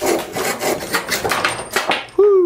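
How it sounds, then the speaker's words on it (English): A hand saw cuts off a wooden peg for a drawer pull with several rhythmic, rasping back-and-forth strokes up close. A sudden squeaky tone follows as the piece comes free. "use the saw, very nicely and cleanly cut it off"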